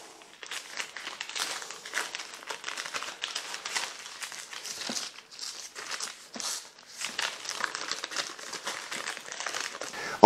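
Parchment paper is peeled slowly off a baked keto chocolate sponge for a Christmas log, giving a continuous close crinkling and light tearing rustle in uneven waves, heard alone without talk.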